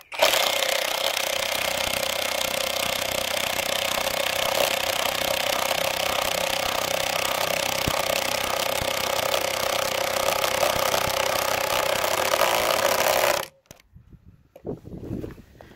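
A Kimo brushless impact driver runs with a universal socket adapter, a loud continuous hammering whir held for about thirteen seconds before cutting off abruptly, followed by faint handling clicks.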